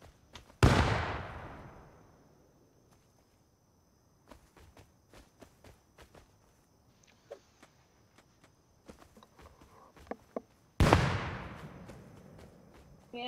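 Grenades in the survival game Rust go off in two loud, sharp blasts about ten seconds apart, with faint footsteps and small clicks in between.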